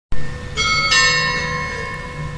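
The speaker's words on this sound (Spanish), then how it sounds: "Por ahí escuchan las campanas de la iglesia." Church bells in Huejotitán, Jalisco ring out loudly and close by, several strikes in quick succession followed by a long, shimmering decay.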